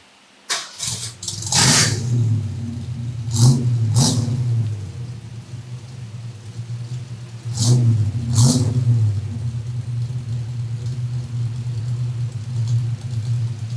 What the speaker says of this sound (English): so this is a stock engine, exhaust, everything as is from the factory